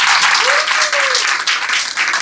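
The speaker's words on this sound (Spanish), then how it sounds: "un fuerte aplauso para el profesor" Close, steady applause from a lecture audience honouring a professor at a philosophy event, a dense, continuous patter of clapping across the short stretch with a brief voice-like tone rising in the middle.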